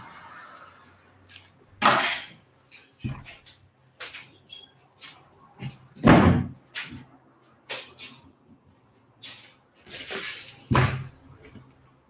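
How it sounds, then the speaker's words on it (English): A door closing with a few sharp slams and knocks among scattered bumps, fairly close, with no voices. "close the door"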